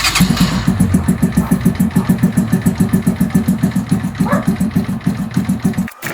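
A Keeway CR152 motorcycle runs with an SC Project muffler fitted with its silencer insert. The engine idles close by with a loud, steady, rapid pulsing beat that cuts off briefly near the end.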